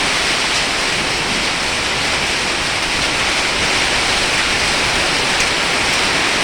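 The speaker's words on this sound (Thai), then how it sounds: "ลูกเห็บลงแล้วลูกเห็บ" Hail pouring down during a heavy storm, a dense, unbroken hiss of pelting ice that stays loud and steady throughout, with no voices.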